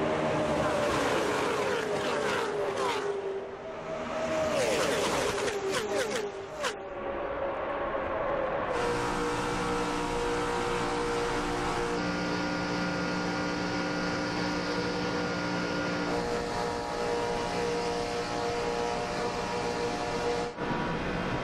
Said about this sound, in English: enjoy all that surround sound and all this horsepower and 185